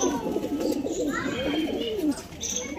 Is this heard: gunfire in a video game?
no